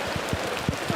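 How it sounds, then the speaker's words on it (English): Heavy rain pours down at a baseball game between Queensland and Victoria, a dense steady hiss with scattered low drop thuds, close and unbroken for the whole moment. "if this rain, it is coming down very heavy, continues, we might have seen the last of this game here"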